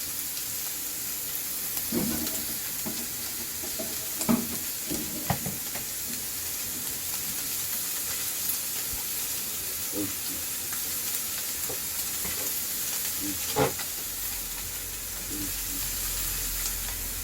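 Marbled beef sizzling on a grill, a steady bed of hissing and crackling fat with occasional louder pops and spits, close by and without voices.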